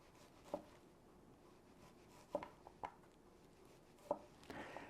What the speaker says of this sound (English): I'm going to cut them in little slices, probably about 1/4 of an inch